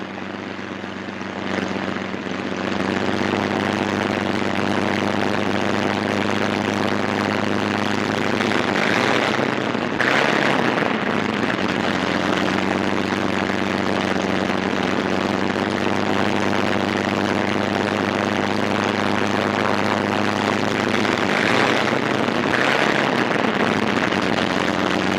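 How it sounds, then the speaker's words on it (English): A WWII P-47 Thunderbolt fighter taxiing on an airfield, its radial propeller engine giving a loud, continuous droning rumble that holds steady throughout with slight swells. "Plane taxis to its own hard standing, widely dispersed around the field."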